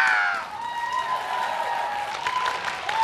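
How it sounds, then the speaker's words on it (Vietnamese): Studio audience applauding for contestants on a game show, a dense wash of clapping under sustained musical tones, moderately loud and continuous. "một tràng pháo tay chúc mừng các thí sinh chúng ta đã hoàn thành một thử thách vô cùng khó khăn"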